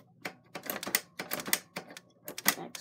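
A manual typewriter typing in colored ink: a quick, uneven run of sharp key strikes, close and clear, with short pauses between bursts and no voices.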